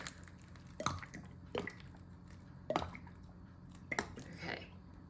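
Seed-starting pellets soaking up water and expanding, giving a few faint, close, wet squishy drips and crackles spaced about a second apart in a quiet room.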